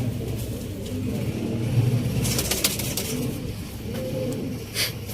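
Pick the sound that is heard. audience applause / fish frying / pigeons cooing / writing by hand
pigeons cooing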